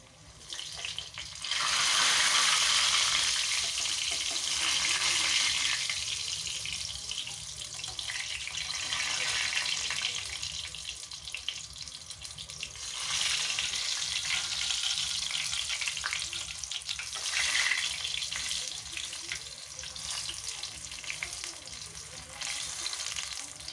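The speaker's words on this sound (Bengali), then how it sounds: "আমি সব পকোড়াগুলো ভেজে নিচ্ছি এরকমভাবে।" Mushroom pakoras coated in a cornflour batter deep frying in oil, a steady loud bubbling hiss that swells and eases in waves, with no talking.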